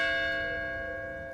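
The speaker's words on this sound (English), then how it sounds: "waiting for the 5th toll of the church bell" A single church bell rings with a long, steady, resonant hum that slowly fades as it decays.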